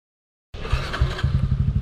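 A motorcycle engine starts abruptly after a short silence and revs in a loud, close, pulsing burst, pitch rising and falling over a couple of seconds.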